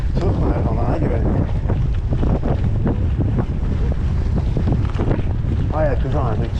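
A strong headwind on a gravel bike ride in the Oise roars and buffets the microphone with constant loud, low rumble, and a voice briefly cuts through near the end.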